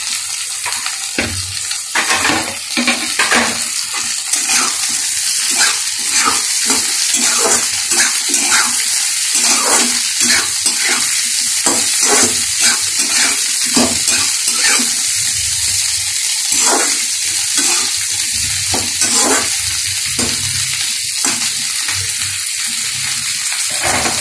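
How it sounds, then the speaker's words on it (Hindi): Chopped onions fry and hiss in a pan with karela (bitter gourd) for bhujiya, a steady loud sizzle broken by regular scraping stirs throughout. "प्याज जो काट के रखी थी वो मैं इसे डाल रही हूँ, ताकि धीरे धीरे प्याज भी उसे एक साथ भुजा जाए"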